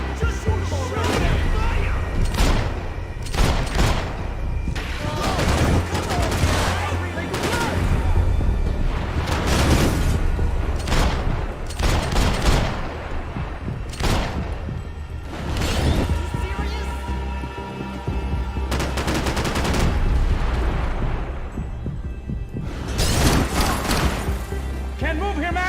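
Gunfire in Max Payne 3 cracks out again and again over a dense, loud background of game sound, the shots coming in irregular clusters across the whole stretch.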